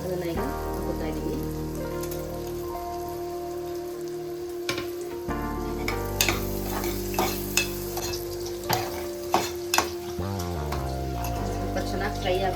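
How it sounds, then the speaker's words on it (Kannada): Spices frying in oil in a pan for egg biryani, stirred with a utensil that clacks sharply against the pan now and then, over a steady close sizzle; a steady tone and other kitchen noise run underneath. "ನಾವು ಏನು ಸ್ಪೈಸಸ್ ಎಲ್ಲ ತಗೊಂಡಿರ್ತೀವಿ ಅದನ್ನ ಈಗ ಹಾಕೋತಾ ಇದ್ದೀನಿ"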